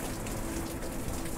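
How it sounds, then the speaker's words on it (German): Rain in the video game The Entropy Centre pours down as a constant, full hiss with a low rumbling undertone, steady and fairly loud with no voices over it. "aber gleichzeitig hier Regen hast"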